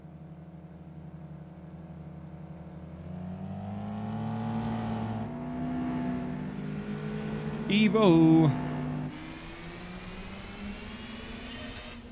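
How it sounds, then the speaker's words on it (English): A Mazda RX-7 rotary engine in Gran Turismo 4 (Spec II mod) revs upward with a rising, buzzy pitch, climbing to a brief loud peak before easing off, while a voice talks over it. "Oh yeah, that rotary engine."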